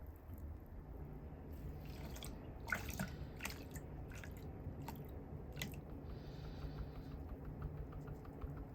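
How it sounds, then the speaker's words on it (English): Paydirt sloshes and swirls in water in a gold pan, giving soft, quiet watery swishes and small drips close by with no speech. "And then give it a slosh."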